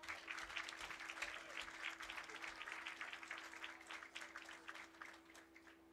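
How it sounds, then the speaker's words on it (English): Steady applause from a crowd at a high school freshman football game fills the air, dense clapping sustained throughout at a moderate distance, with faint murmuring beneath. "Let's give them a big round of applause."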